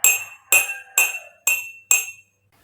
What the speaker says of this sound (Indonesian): bunyi yang dihasilkan berbeda setiap gelas ketika sendok dipukulkan ke setiap gelas